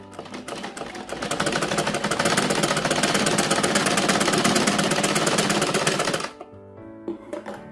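A sewing machine stitches along a skirt waistband, running at a steady rapid clatter for several seconds, then stopping abruptly, leaving a few faint handling clicks.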